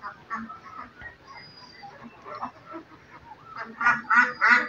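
Khaki Campbell ducks on a farm, kept in a netted enclosure, give off a chorus of quacks and calls, scattered at first and then louder, rapid bursts near the end.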